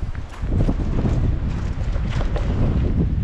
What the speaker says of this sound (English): And yeah, the wind is really picking up now.